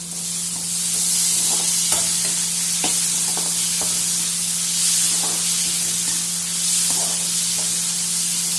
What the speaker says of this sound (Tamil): நல்லா இப்போ தக்காளி நல்லா வதங்கட்டும்.